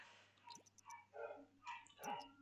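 Faint, small barks and yips from a dog in The Sims 4, a few short bursts spread unevenly over a couple of seconds with a thin hum beneath.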